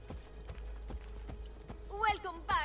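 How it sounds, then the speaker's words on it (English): A horse ridden through the city streets in Assassin's Creed: Brotherhood clops along in an even rhythm of hoof strikes, with a voice speaking over the last part. "We can bring a horse into the city."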